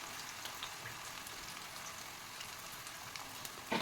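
Raw banana slices fry in oil on a tawa, giving a faint, steady crackling sizzle like light rain, continuous and even throughout, with a brief clatter at the end and no talking.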